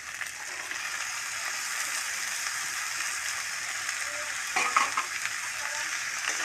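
Boiled eggs and figs fry with spices for a dalna, a bright steady sizzle filling the scene, with a short burst of stirring and clinking near the end.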